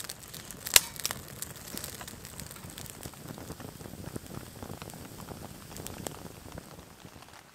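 Light drizzle falling at a cold, windy wilderness campsite, a soft steady patter and hiss of drops on surfaces, with one sharp brief click near the start and a few faint crinkles, fairly quiet overall.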